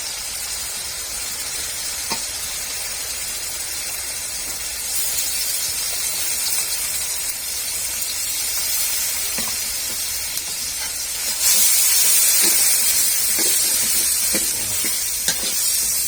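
Garlic and ginger paste sizzles in a pan over a clay stove, giving a steady, loud hiss with occasional spatters and scrapes. The hiss swells brighter near the end.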